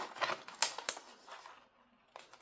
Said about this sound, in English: So let's go ahead and get some transfer tape. And then let's cut it down from there.